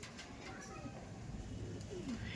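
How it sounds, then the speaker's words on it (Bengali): Racing pigeons in a loft being sold off after tournament flying, an aggressive standing pair, give low, soft cooing against a steady murmur of background noise, with voices faintly present. "কতটা অ্যাগ্রেসিভ পায়রা দেখুন।"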